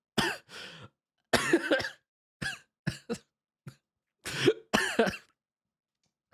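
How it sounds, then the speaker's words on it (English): A person coughs and clears their throat several times in short, separate bursts, close and fairly loud. "Let me clear my throat."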